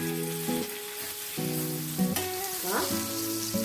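Surmai fish frying in hot oil on its second side, a steady close sizzle with occasional crackles and a brief stir, no voices.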